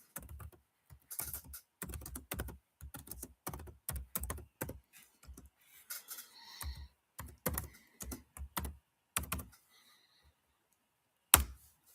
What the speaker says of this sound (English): Let me get it typed in.